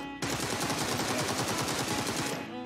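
Rapid automatic gunfire from the mobile battle-royale shooter Game for Peace (PUBG Mobile), a loud sustained burst of evenly spaced shots lasting about two seconds, then cutting off abruptly.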